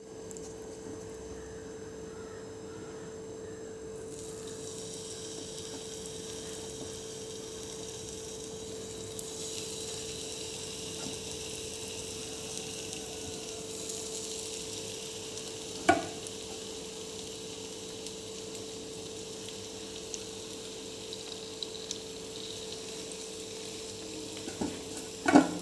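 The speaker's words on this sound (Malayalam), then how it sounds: "ഇനി നമുക്ക് ആ ഫിഷൊക്കെ ഓരോന്നായിട്ട് എടുത്തിടാം." Fish frying Kerala style in hot oil in a pan, a steady soft sizzle throughout with a few faint clinks and taps near the end, no voices.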